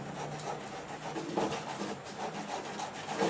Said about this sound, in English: just with a used piece of sandpaper, I am going to smooth out that edge